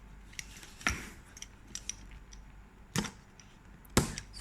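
Scissors or a blade cutting an extra packaging layer on a sneaker box, with a few sharp close snips and cracks spaced over several seconds amid soft rustling.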